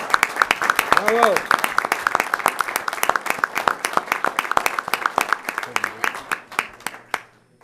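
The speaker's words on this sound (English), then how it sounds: "a nice round of applause for the Pichot family" An audience at a city council meeting gives a round of applause, crisp close claps at first that thin into scattered slower claps before fading out, with a brief voice in the middle.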